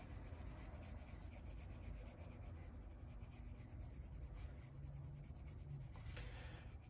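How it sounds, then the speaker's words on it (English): A bar of Columbus wax rubs back and forth along a leather edge, a soft, steady, close scuffing friction that continues throughout, with no talk. "then just rub on the Columbus wax"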